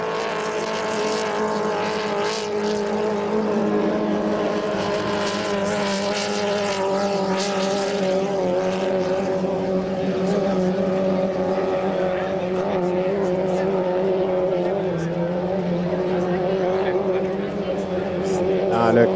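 Engine of a 2.5 litre class hydroplane racing boat at a regatta, a loud sustained buzzing drone that shifts in pitch as it passes, with an announcer talking over it.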